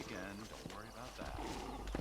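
A small donkey's hooves clip-clop in Red Dead Redemption, a few soft rhythmic thuds half buried under someone talking over the game.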